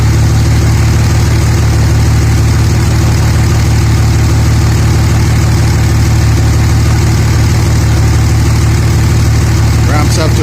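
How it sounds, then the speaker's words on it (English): A 2006 Dodge Ram 3500 truck engine idling steadily, a loud, low, even rumble with constant vibration filling the whole stretch, with a faint brief chirp near the end. "So this is with the truck running."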